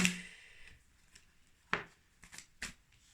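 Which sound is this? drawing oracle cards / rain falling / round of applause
drawing oracle cards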